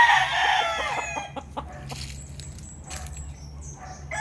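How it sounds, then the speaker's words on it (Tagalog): Chickens and fighting roosters at a farm in Tanauan City, Batangas, with a close rooster crow, then scattered clucks and distant crowing over a low background hum. "Ba't marami-rami pala tong mga manok dito."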